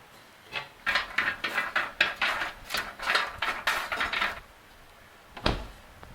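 An oven is opened and roasting peanuts are shuffled around on a metal tray, giving a run of rattling, scraping clatters, a pause, then a single louder knock.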